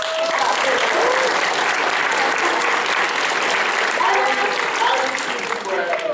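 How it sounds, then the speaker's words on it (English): Sustained, dense audience applause fills a convention Q&A panel for hololive English at Megacon Orlando 2021, loud and steady throughout with faint voices and cheers mixed into the crowd. "Give her a round of applause, folks."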